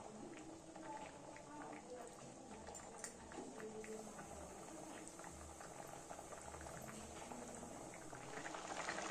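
Mushroom and potato curry bubbles steadily in a pot, a continuous close simmering boil with soft popping, while a person talks over it.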